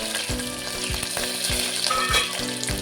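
Onion frying in oil with mustard seeds, cumin and curry leaves for veg pulao, a loud continuous close sizzle broken by a few rhythmic spatula scrapes.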